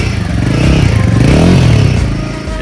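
A Royal Enfield Himalayan 450 motorcycle revs up close in a showroom, its exhaust note rising to a loud, throbbing peak midway before easing back down.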